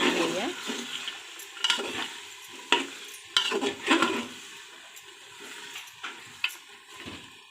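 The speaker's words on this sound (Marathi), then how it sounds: "आता आपण हे सर्व असं मिक्स करून घेऊया" Vegetables, peanuts and masala for veg pulav being stirred in a pressure cooker, with repeated close scraping and clanking strokes of a spoon over a faint sizzle, strongest early and thinning out later.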